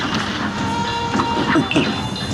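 Rumbling clatter of a train in the Cuphead video game, a dense, steady mechanical roar with faint metallic clanks, heard under a voice.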